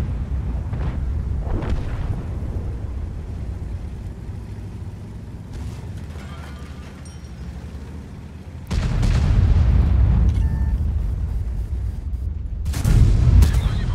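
Heavy booming tank cannon blasts from the video game World of Tanks, fired from an NC 70 Blyskawica, with rumbling aftermath; a big sudden shot midway and another loud burst near the end.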